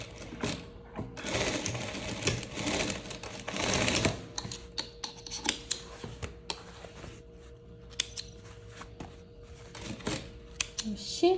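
A sewing machine runs in fast rattling bursts as it stitches fabric for a leopard-print dress, loud whirring stretches early that break into shorter stop-start runs and clicks, close up, with a voice speaking now and then.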